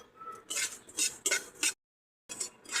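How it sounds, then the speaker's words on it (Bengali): Spices dry-roasted in a pan for mango pickle, heard as bursts of close metallic scraping and stirring of the utensil against the pan, with a short silent gap before the stirring resumes. "আর এবার এই মশলাগুলি দিয়ে দেবো একসাথে, হালকা রোস্ট করে নেবো।"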